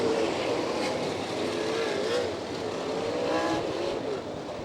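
Sprint race cars at Lima speedway in Ohio circle the track under caution, a steady loud engine drone with rising and falling pitch as the pack passes, heard from the stands at middle distance.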